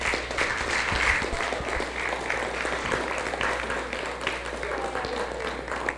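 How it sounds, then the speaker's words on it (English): Church congregation on Mother's Day gives a steady round of applause, a dense wash of clapping in a large hall with a low background hum and faint voices underneath. "let's give them a round of applause"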